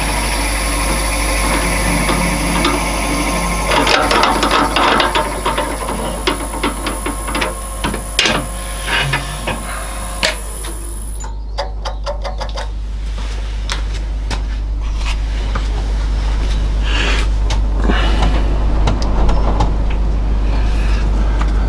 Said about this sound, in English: I'm now going to turn this round and drill the other end